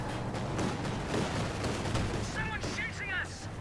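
Machine gun fire rattles in a Company of Heroes 2 battle, with dense bursts of gunfire and distant artillery under a continuous battle din.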